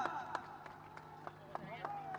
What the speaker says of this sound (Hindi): जोरदार तालियों से स्वागत होना चाहिए साथियों